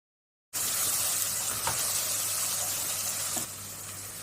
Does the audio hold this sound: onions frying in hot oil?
yes